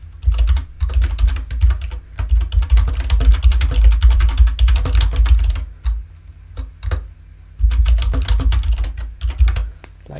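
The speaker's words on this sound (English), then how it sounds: "So we type else like that" Python code is typed on a computer keyboard in quick, uneven bursts of close, crisp key clicks separated by short pauses, with no talking.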